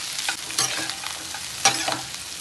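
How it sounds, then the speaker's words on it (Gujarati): Chopped vegetables fry in hot oil for a restaurant-style sauce pasta, a steady close sizzle broken by two sharp scraping stirs of a spoon through the pan. "શેકી દઈશું તેલમાં"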